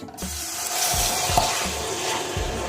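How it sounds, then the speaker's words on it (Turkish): Water poured into melted, lightly browned sugar hisses and sizzles steadily while caramel for a chicken breast dish is made. A spoon scrapes and stirs the pan in soft, repeated strokes, close up and with no talking. "Bir su bardağı su ilave ediyoruz."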